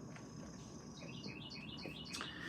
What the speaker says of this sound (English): the birds are coming out.